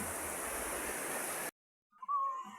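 Rough sea surf at low tide roars as a dense, steady wash of noise, then cuts off abruptly to silence before a faint, thin sound returns.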